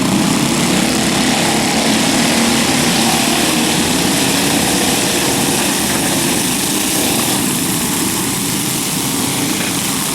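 Small go-kart engines buzz loudly and steadily around a karting club track as a race resumes, a continuous high, droning whine with no break.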